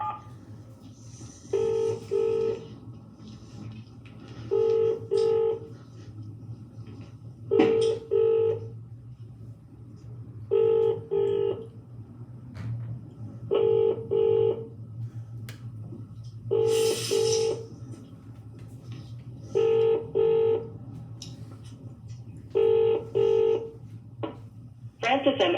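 A telephone dials a number with repeated bursts of DTMF keypad tones, spaced every few seconds over a low steady hum, and no one answers.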